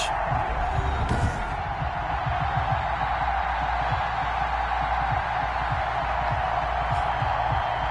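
Stadium crowd in a Madden NFL game before a Cleveland Browns versus Indianapolis Colts matchup, a broad continuous roar of cheering that stays level throughout, with faint low thumps beneath it.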